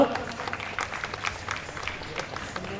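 Audience applause at a Kuchipudi dance performance during a festival, a steady wash of clapping from a crowd that lasts throughout the short stretch.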